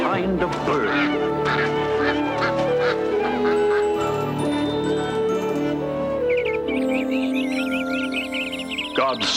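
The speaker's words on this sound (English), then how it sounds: "God created every kind of bird" Cartoon birds honk loudly in a busy, overlapping chorus of goose- and duck-like calls over music, filling the whole stretch.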